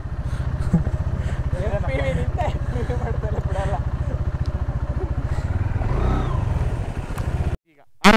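A motorcycle rides along with a steady, close engine rumble and rapid pulsing exhaust beats that swell slightly around six seconds, then cut out briefly near the end; faint voices seem to sit under the engine.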